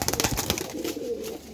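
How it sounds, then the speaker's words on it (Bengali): A captured pigeon with its wings tied coos close by in a short burst of throaty, repeated notes that fade toward the end. "এত চালাক কবুতর"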